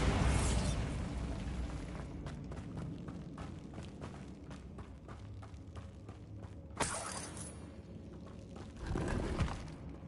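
The Bombarda spell explodes in Hogwarts Legacy as a loud, broadband blast at the start, followed by crackling debris, a second burst midway and another rumbling surge near the end.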